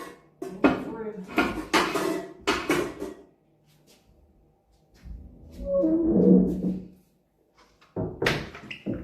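Metal pans clanking and scraping while being cleaned during an Airbnb turnover, several sharp clatters in bursts with a gap of quieter handling between them; no speech.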